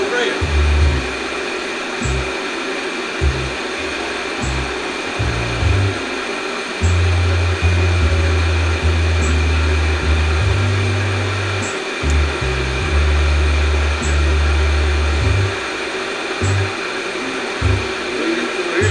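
A lathe cutting a double-lead left-handed internal Acme thread hums steadily with a high whine, while a low motor drone starts and stops in uneven bursts as the cut proceeds.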